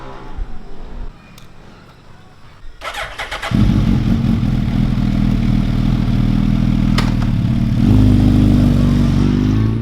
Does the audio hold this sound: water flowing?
no